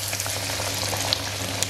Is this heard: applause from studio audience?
no